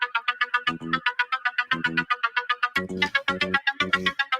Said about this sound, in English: You have a caller on the WhatsApp.